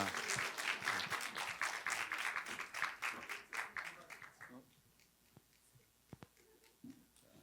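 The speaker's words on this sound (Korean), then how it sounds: "우리 한번 우리 박수로 한번 환영합니다" A church congregation applauds to welcome a speaker at a Sunday worship service, with dense clapping that fades out midway, leaving a quiet room with a few scattered knocks.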